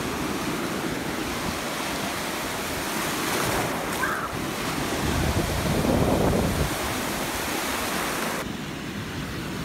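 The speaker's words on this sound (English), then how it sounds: "My favorite part about the water is like the waves and stuff." Ocean waves breaking and washing ashore at a hot-weather beach, a continuous broad roar that swells and recedes, with wind buffeting the microphone.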